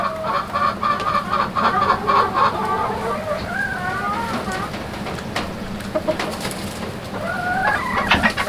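Chickens cluck and warble continuously, several birds close by, with a low steady rumble underneath.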